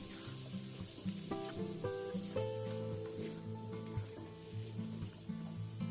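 Steady frying sizzle with a spoon stirring and scraping through meatballs and spring onions in a pan, continuous and close, with no talking.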